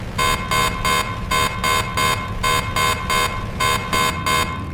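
A loud, repeating action-station alarm aboard a wartime flying boat blares in evenly spaced bursts, a harsh electronic tone pulsing in groups with brief gaps, over a low engine-like drone.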